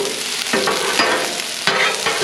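Teriyaki salmon and vegetables searing on a flat-top griddle, a loud, close, continuous sizzle broken by a few scraping stirs of a spatula, with no voices.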